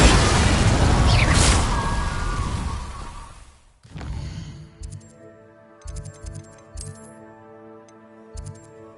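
A loud roaring blast from the Confringo spell in the Hogwarts game rumbles for several seconds and fades out, followed by quiet tinkling chimes and light ticking sounds.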